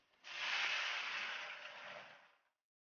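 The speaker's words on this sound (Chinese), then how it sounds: "倒入烧水" Hot water poured into a wok of stir-fried scallion, ginger, garlic, star anise and Sichuan peppercorns for braised hairtail fish, a steady hissing rush lasting about two seconds, close and alone.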